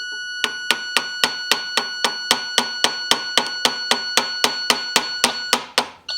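A hammer taps a part on a Yamaha 100 Trailmaster motorcycle during timing work, about twenty sharp metallic strikes in a steady, even rhythm, close and ringing, with no talk.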